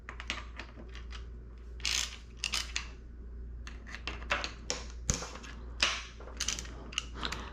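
Ratchet wrench loosening the mounting bolts on a DB Industries electronic throttle: rapid close metallic clicking in bursts, with brief pauses and occasional clanks of tool on metal, no talk.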